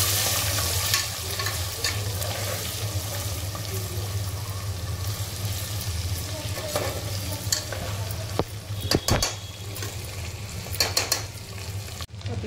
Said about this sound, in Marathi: हळद आणि मीठ हे टाकून व्यवस्थित त्याला फ्राय करून घ्यायचं